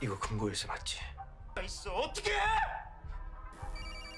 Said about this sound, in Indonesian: tiba-tiba HP Tae-san berdering